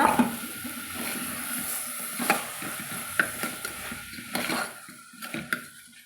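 Close-up stirring of a rice and bottle gourd biryani mixture in a pot, a soft scraping and swishing with a faint sizzle underneath and occasional light clinks of the spoon against the side.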